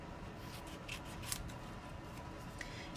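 Snips cut apart handmade Stampin' Up! paper card pieces in a quiet room, giving a few soft, crisp snipping clicks spread over a few seconds.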